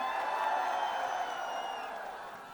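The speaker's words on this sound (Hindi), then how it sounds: "जोरदार तालियों से प्लीज वेलकम सनी देओल" A large crowd cheers and applauds Sunny Deol's arrival at the Border 2 song launch event in Jaisalmer, a dense, steady roar of claps and shouts that stays loud throughout and eases slightly toward the end.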